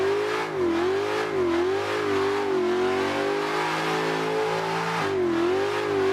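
A black BMW in Assetto Corsa revs hard while drifting, the engine note loud and close, wavering up and down continuously with brief dips as the throttle shifts.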